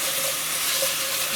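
Onions sautéing in a pan for tomato sauce give off a steady, even sizzle and hiss, close and continuous, with no talking.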